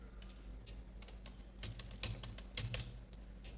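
Code is typed on a computer keyboard in quick, uneven bursts of light clicking keystrokes. The taps are close but quiet, busiest toward the middle and end, with no voice.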